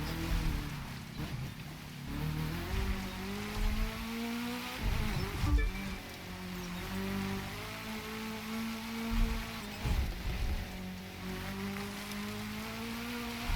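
A car in The Crew 2 drives slowly off-road with its engine note rising and falling, and tires scrub through a careful counter-steer. The sound is fairly quiet and steady, with no talking.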